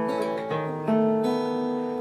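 Acoustic guitar plays an arpeggiated intro, individual notes picked one at a time and left to sustain into each other, close and clear with no talking.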